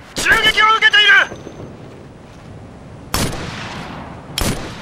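Gunfire in the video game Operation Flashpoint: Red River. A voice speaks briefly at the start, then two sharp, loud shots ring out about a second apart after a quiet gap.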